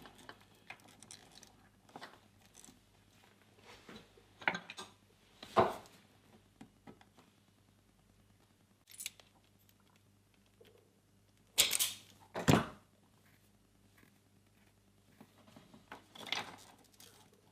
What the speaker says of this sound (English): We'll try to pry this open in order not to cut it.